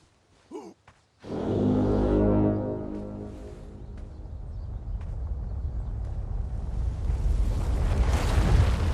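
A deep, sustained horn blast in King's Quest, loud and droning with rich low harmonics, swelling in after a brief silence and fading into a rumbling wash.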